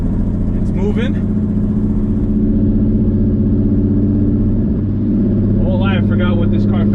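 Steady droning engine of an Audi RS3 swapped with a VR6 engine, heard from inside while driving slowly; a constant low hum holds throughout, with voices talking briefly near the start and end.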